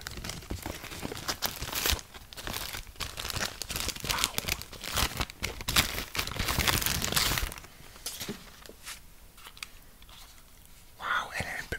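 Packaging for a PS5 Slim DualSense controller being unwrapped up close, with dense crinkling and tearing of plastic and cardboard in bursts, and a quieter stretch near the end.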